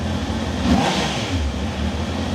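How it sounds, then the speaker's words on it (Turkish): A Honda CBR650R four-cylinder motorcycle engine runs steadily close by, a smooth mid-pitched hum with a slight rise in revs early on, then settling back to an even drone. "Motoru bir çalıştırayım. Hem sesini duyalım. 4 silindir makine biliyorsunuz."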